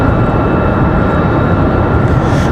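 A Sun Country airliner departs from runway 5 right at Raleigh-Durham International Airport, its loud, broad engine roar holding steady and close throughout with no voices.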